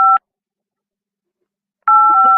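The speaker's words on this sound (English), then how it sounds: "Can we get a phone ring on this?" Electronic phone ring tone with two steady pitched tones, one short burst, a pause, then a longer loud ring starting, used as a studio sound effect on a radio show; no talking.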